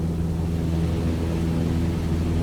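A small airplane's engine in Microsoft Flight Simulator 2020 drones steadily with a low, even hum and no change in pitch, loud and continuous with no one speaking.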